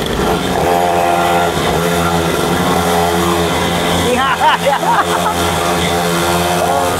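Stock 49cc two-stroke mini pocket bikes race, engines buzzing loud and raspy at high revs, close, with one rising and dropping briefly in pitch as it pulls away, voices faint underneath.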